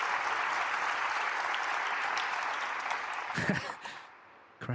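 A snooker crowd at the Grand Prix final applauds a century break with loud, sustained clapping that holds steady, then thins and fades out in the final second.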